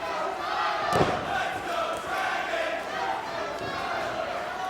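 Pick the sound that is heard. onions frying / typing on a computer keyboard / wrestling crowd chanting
wrestling crowd chanting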